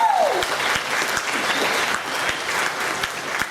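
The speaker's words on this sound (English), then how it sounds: "Let's give them a round of applause." Audience at a Hall of Fame induction ceremony applauds the inductee's family, a steady, dense wash of many hands clapping that fills the room at an even level from start to finish.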